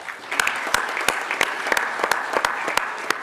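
Loud sustained applause in the State Duma plenary hall after a speech by Zinaida Greceanu, a dense wash of clapping with sharp individual claps standing out.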